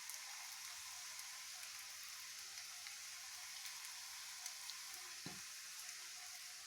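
Coriander leaf pakoras fry in hot oil, giving a steady dense sizzle throughout with one brief soft knock near the end and no talking.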